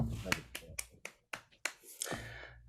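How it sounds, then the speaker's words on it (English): A few people on a podcast clap, with sharp, close claps in a sparse, uneven rhythm of about eight hits, mixed with speech and laughter. "We got to clap it up, y'all."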